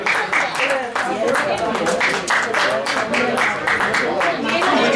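A crowd claps at an honouring ceremony in an auditorium anniversary event, sustained and fairly loud throughout, with a voice speaking over the applause.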